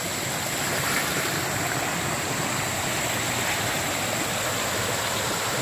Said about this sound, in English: There's one waterfall and a bit of a rapid.